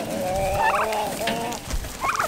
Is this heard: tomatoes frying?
no